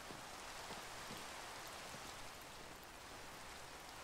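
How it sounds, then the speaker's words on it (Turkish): Steady rain pours down in a Minecraft survival world, a constant even hiss of falling drops with no pauses, heard alone without talk. "Yağmur yağdı."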